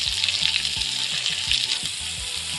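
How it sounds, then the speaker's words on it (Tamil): Onions fry in a pan with added salt, a steady sizzle and hiss with repeated low knocks, close by and with no voices. "வெங்காயம் நல்லா வணங்குறதுக்கு கொஞ்சம் உப்பு சேர்த்திக்கலாம்."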